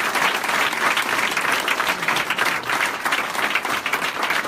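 A church congregation breaks into loud, sustained applause, dense continuous clapping from many hands filling the room throughout.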